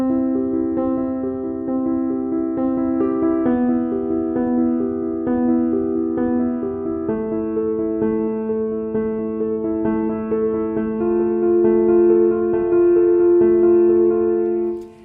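Piano chords played at a quicker pace, a steady sequence of sustained harmonies changing every couple of seconds, clear and close with no talking.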